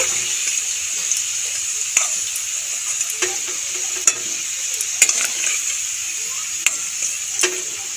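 Potato pieces fry in hot oil and get stirred, a steady close sizzle broken by a series of sharp clicks and scrapes from the spatula against the pan.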